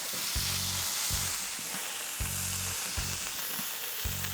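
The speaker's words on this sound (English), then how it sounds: "You want to get a lot of pressure on these burgers so you can get that nice sear on one side" Cuban frita burger patties searing on a hot griddle give a loud, dense sizzle, with repeated low thumping presses as the patties are pushed down, close up and without talk.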